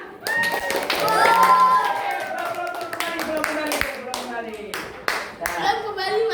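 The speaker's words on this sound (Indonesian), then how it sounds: "Oke, tepuk tangan." Children in a classroom clap their hands together in a loud, dense burst that fades a little toward the end, with young voices chattering over and under the applause.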